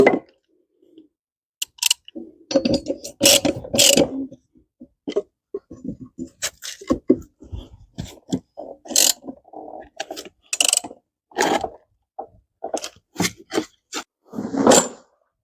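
Removing the blade from a rotary lawn mower produces a run of irregular metallic clicks, clanks and ratcheting taps, some close and sharp, scattered unevenly with short silences between them.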